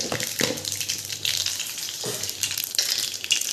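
Mustard seeds sizzle and crackle continuously in hot oil, a dense hissing fry with occasional louder pops and stirring scrapes, close and steady.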